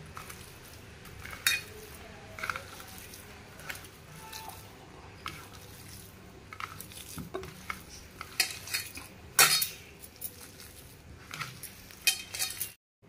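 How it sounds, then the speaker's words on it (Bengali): Sliced onions fry in a pan for homemade aloo paratha, stirred with a metal utensil that clinks and scrapes against the pan in irregular bursts over a low, steady background, with no one speaking. "পেঁয়াজটা একটু লাল লাল করে ভেজে নেব"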